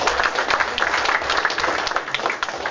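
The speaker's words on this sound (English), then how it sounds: "a round of applause for Pro Sound and Stage Lighting" An audience at a live DJ product demo gives a round of applause, dense and continuous clapping throughout, moderately loud and slightly distant.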